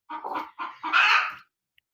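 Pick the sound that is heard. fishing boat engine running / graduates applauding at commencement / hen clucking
hen clucking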